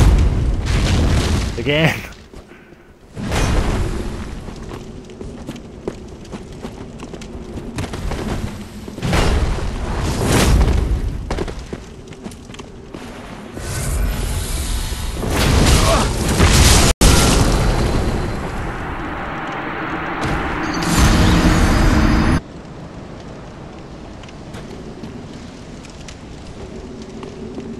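A Dark Souls 3 combustion pyromancy spell erupts in repeated short fiery bursts and booms amid game sound effects, while someone talks over the action.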